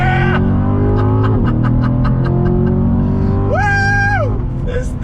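A Chevrolet Corvette C7 Grand Sport pulls hard on throttle, its loud V8 climbing through the revs in a strong rising howl, with a sharp quick upshift and a person's excited vocal whoop over the engine.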